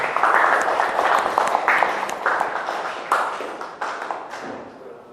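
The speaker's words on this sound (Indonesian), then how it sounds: "beri aplaus buat kelompok 1" Scattered clapping from a classroom audience after a student group's presentation, with uneven hand claps and taps that thin out and grow quieter toward the end.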